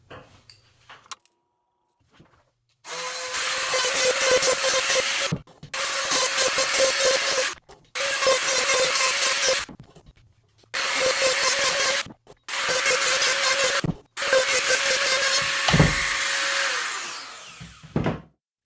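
A power grinder sharpening chainsaw chain teeth whines in six separate bursts of several seconds each, with short quiet pauses between them, loud and close.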